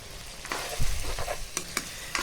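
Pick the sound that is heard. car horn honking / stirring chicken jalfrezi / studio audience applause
stirring chicken jalfrezi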